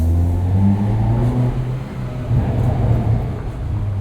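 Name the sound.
2021 Hyundai Veloster N DCT engine accelerating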